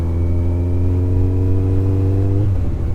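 Motorcycle engine running steadily in 4th gear while riding, a loud continuous drone with stable harmonic tones that hold evenly, then drop abruptly near the end as the engine cuts.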